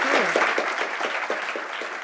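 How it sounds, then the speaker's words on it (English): Audience applause after an AI panel discussion, a brief burst of clapping mixed with a speaking voice over it. "Please give a round of applause."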